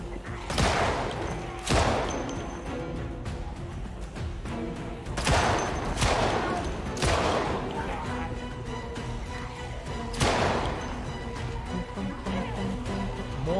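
Gunfire from a gun shooting zombies in Project Zomboid, with sharp shots in an irregular rhythm, some in quick pairs, standing out loudly over a steady game background.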